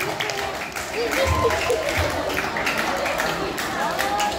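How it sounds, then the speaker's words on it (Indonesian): An audience applauds after a school student council chair and vice-chair debate, broad continuous clapping and crowd noise at a steady level, with faint voices and cheering underneath. "Mari kita beri tepuk tangan yang meriah sebagai apresiasi atas kerja keras dan dedikasi moderator dan semua yang terlibat"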